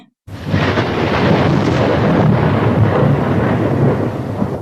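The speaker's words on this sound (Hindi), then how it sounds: "तभी बिजली कड़की।" After a brief silence, a sudden loud crack of thunder bursts in and rolls on as a heavy, sustained rumble that slowly fades.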